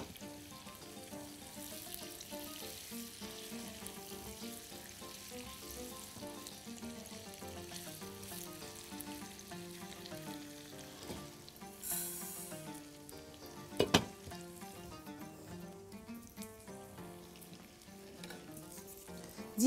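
Vermicelli toasts in a dry pan without fat, giving a soft, steady sizzle and faint scraping as it is stirred, quiet and continuous with no talking.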